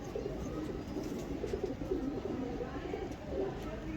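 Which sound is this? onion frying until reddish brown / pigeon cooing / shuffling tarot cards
pigeon cooing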